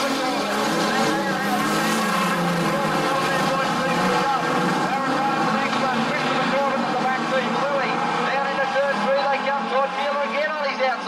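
Street stock race cars roar around Gunnedah Speedway in a 2015 NSW title heat, a dense, continuous wall of engine noise with rising and falling revs, and a commentator talking underneath.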